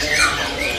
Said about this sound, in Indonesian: Burung gede-gede ya?